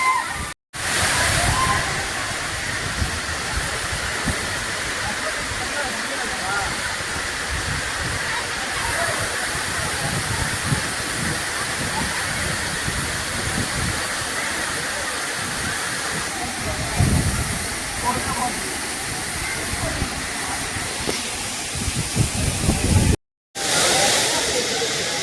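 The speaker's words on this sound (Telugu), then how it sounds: "చూశారు కదండి, పెంచల్కోన వాటర్ ఫాల్" Penchalakona waterfall roaring steadily, a continuous dense wash of falling water close by, loud and unbroken for the whole stretch with only a couple of brief dropouts.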